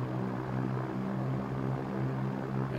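The twin engines of a Piper PA30 Twin Comanche run at full throttle in the X-Plane flight simulator, a steady, loud, droning propeller roar with a pulsing harmonic hum and no talk over it.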